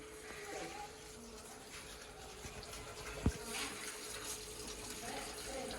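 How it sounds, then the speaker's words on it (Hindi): Water is poured over okra laid out in a tray for washing, a faint continuous running and splashing close by, with one sharp knock midway and soft voices in the background. "ऐसे फिर पूरी ट्रे में डाल के ऊपर पानी बहा के"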